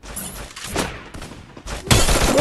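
Gunfire in the Free Fire video game: bursts of rapid shots and sharp impacts come in several loud clusters, building to a dense, heavy volley at the end, with no talk over them.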